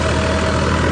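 An HMT 3511 tractor engine runs while pulling a 7-foot Punni super seeder, giving a loud, constant, close-up drone that holds steady throughout with no voices.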